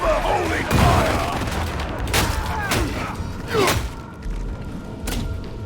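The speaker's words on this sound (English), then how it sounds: "Let's get a nade in there. May this grenade deliver holy fire!" A grenade detonates in Warhammer 40,000: Darktide amid a noisy co-op firefight, with several heavy booming bursts and thuds spread across the moment over a constant din of combat noise.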